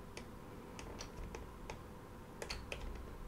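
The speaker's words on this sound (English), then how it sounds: "you can also just use the arrows on your keyboard left and right" Computer keyboard arrow keys tapped in a quiet room: a handful of sharp, close clicks spaced irregularly, with a short quick cluster near the end.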